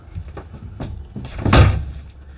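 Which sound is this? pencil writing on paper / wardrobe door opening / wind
wardrobe door opening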